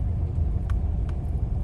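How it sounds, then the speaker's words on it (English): A 1985 Chevrolet Caprice Classic rolls slowly through a residential neighborhood at medium throttle, its engine a steady low rumble with constant road noise, heard from inside the car with no talking. "Take it for a little spin around the neighborhood here and bring it right back."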